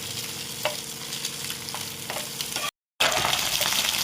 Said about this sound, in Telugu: ఈ ఎగ్ తురుముని మధ్య మధ్యలో తిప్పుకుందండి, మంచిగా వేగిన తర్వాత వేగేదాకా